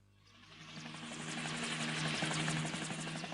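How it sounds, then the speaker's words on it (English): A rescue helicopter flies in, its steady rotor roar swelling from faint to loud and holding, with no voices. "SC rescue helicopters from RAF Sopwith were called out after a yacht capsized in a storm off the Devon coast."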